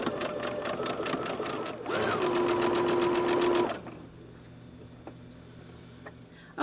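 A sewing machine stitches gathers on an 18-inch doll dress in a steady rapid run of close needle strokes, a brief louder, faster burst near the middle, then the motor stops and leaves quiet room tone.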